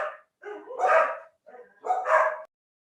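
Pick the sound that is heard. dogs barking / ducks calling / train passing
dogs barking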